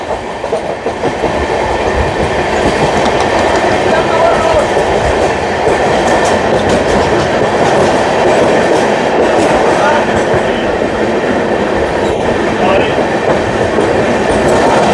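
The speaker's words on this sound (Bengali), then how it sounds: "শিয়ালদা সাবরুম কাঞ্চনজঙ্ঘা এক্সপ্রেস এই মুহূর্তে পার করছে বিধাননগর রোড।" Sealdah–Sabroom Kanchenjunga Express passenger train running through Bidhannagar Road station near Kolkata, a loud, steady rumble of wheels and carriages rolling by close at hand, continuous for the whole stretch with no talk.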